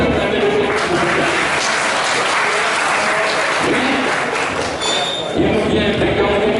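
An audience breaks into loud, sustained applause to welcome a speaker at a Christian–Muslim debate, dense clapping that continues steadily throughout with only a brief dip near the end.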